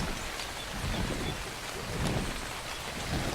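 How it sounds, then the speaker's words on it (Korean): Steady rain pours down in the ARK Survival Evolved game world, a dense, even hiss of falling drops that fills the scene without letting up, loud and close, with no talk over it. "지금 비가 와서 안개가 껴서 잘 안 보이는데"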